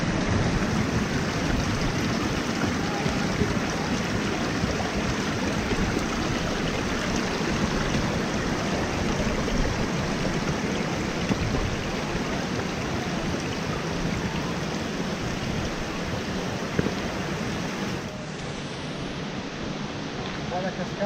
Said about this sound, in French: La cascade derrière.